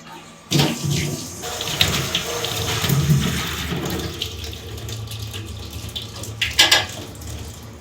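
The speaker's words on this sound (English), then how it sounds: "you just rinse it under regular water and leave it to dry" A tap runs steadily as a part from an Antminer L3+ crypto miner is rinsed under regular water, a close, continuous splashing gush that shifts in tone as the part moves through the stream.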